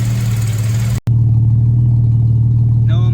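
A beautifully preserved classic car's engine idles smoothly at the rear exhaust pipe, a loud, steady low rumble with a brief dropout near the start.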